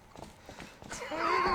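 A horse in the Zelda game Twilight Princess clip-clops along in a quick, even rhythm, then lets out a loud, rising whinny that swells toward the end, with a hint of background voice.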